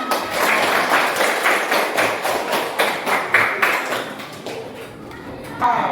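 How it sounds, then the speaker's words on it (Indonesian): A class of students claps in a quick, rhythmic burst of sharp taps, fairly close and mostly alone, with a slight pause before a final louder clap near the end. "Tepuk tangan"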